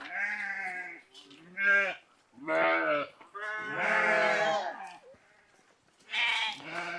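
Freshly shorn sheep in a shepherds' flock bleat repeatedly in close, loud bursts, several overlapping calls separated by short pauses, with a voice heard faintly among them.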